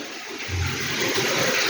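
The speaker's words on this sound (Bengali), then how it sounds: "একটু ঠান্ডা জল মিশিয়ে দিই।" Cold water is poured into a vessel to mix, giving a steady broadband gushing rush that starts softly and swells into a close, continuous splash with no voices.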